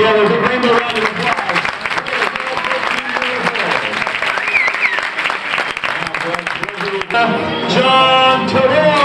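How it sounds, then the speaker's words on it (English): Crowd applause at a 1994 Iron Kid children's triathlon medal ceremony in Phoenix, dense and continuous for about nine seconds, with an announcer's amplified voice carrying over the clapping. "Put your hands together. Big rainbow round of applause."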